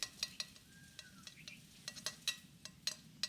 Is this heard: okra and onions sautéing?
yes